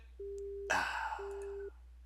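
Telephone busy tone after a hang-up: two steady electronic beeps separated by a sharp clatter and noisy rush, the tone clean and close on the line.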